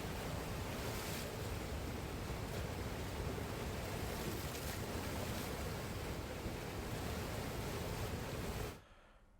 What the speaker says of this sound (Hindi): तस्वीर देखिए किस तरह से पानी की लहरें विकराल दृश्य दिखा रही हैं।